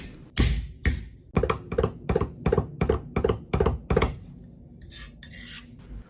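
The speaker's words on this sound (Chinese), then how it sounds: "准备1小块生姜，拍匀剁碎" Rapid, sharp knife chops mincing ginger on a cutting board, a quick series of close thuds in a steady rhythm, then a short pause and a few softer scrapes.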